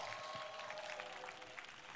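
Faint, distant crowd applause rises for a performance of a song at an outdoor talk concert in Ulsan Grand Park, heard as a soft continuous patter.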